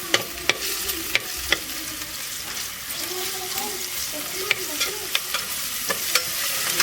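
Onions fry with ginger-garlic paste in a pan, a constant close sizzle broken by sharp scraping stir strokes, with no one speaking.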